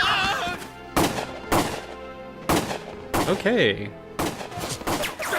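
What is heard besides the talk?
gunfire in the video game Valkyria Chronicles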